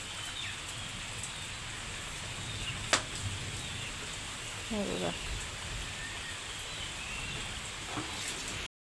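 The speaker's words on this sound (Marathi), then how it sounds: "इकडे पावसाने सुरुवात केली." Steady rain hisses throughout, with a sharp click and a brief chirping bird cutting through partway.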